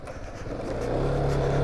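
A warmed-up Zontes 125M motorcycle engine revving, a loud, close, rising drone that builds steadily in pitch and intensity with no speech.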